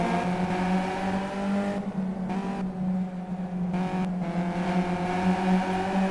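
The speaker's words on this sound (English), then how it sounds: "He brakes earlier and one of them's offline, and it happens to be Mr. Jones" Race cars in the Simraceway racing game, engines roaring steadily with gear shifts and brief drops in pitch as cars brake and accelerate, one loud engine up close the whole time.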